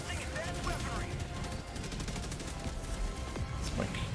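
Counter Sniper rifle fire in Helldivers 2 during a big battle against bots: dense, continuous crackling gunfire and heavy reports with no break, thick low-end rumble throughout, voices faintly mixed in.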